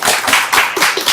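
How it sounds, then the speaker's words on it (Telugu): An audience at a film team interview claps briefly, several loud, close hand claps in quick uneven succession. "ఇప్పుడు క్లాప్స్ కొట్టండి"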